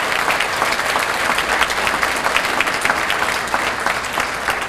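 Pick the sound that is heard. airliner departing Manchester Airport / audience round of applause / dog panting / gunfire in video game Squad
audience round of applause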